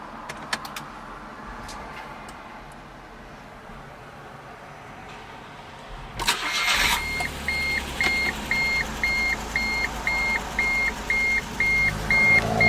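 A 2009 Smart Fortwo Passion Coupe starts up: a short cranking burst catches and settles into a low, steady idle, while a regular chiming warning tone repeats over it.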